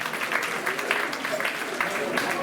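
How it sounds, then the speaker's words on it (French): Sustained audience applause at a section festival in a hall, steady crowd clapping filling the whole stretch at moderate loudness, with a speaking voice faintly mixed in. "Je tenais à vous applaudir et à vous féliciter."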